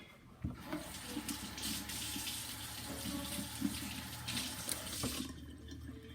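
A large kitchen knife is rinsed under a running tap into a sink, a steady close rush of water with small clatters and splashes as the blade moves, no voices.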